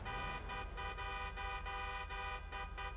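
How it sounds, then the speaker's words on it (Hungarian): Car horn in the video game GTA V, on an Ocelot XA-21: a loud, steady honk held for the whole stretch, briefly broken by several short dips, with no talking over it. "Tomo, nyomd csak te is a dudát."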